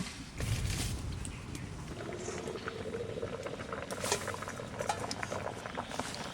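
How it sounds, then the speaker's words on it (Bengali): Mango leaves simmer with salt in a covered pot, a soft steady bubbling and light patter of boiling liquid heard close but quiet, without any talk. "আম পাতা সেদ্ধ হয়ে গেছে"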